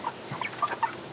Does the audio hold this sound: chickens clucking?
yes